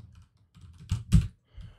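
A password is typed on a computer keyboard as a handful of close, soft keystrokes in an uneven rhythm, with one louder tap in the middle.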